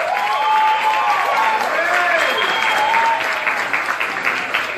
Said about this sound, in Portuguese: momento de aplausos aqui.